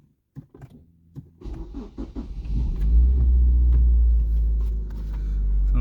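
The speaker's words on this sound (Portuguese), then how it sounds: "Então bora dar partida no carro," A Ford Focus with a faulty electric fuel pump is started with the hood open, with clicks and a brief cranking before the engine catches into a deep, steady idle rumble close by.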